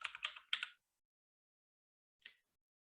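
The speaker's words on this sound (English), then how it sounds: "I hold Control and hit F on the keyboard." Keys pressed on a computer keyboard during a technology lesson: a quick cluster of clicky taps, then silence and one more short, close key press.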